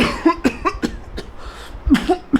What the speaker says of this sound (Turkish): iksir şu anda beni aşırı derecede öksürtmeye başladı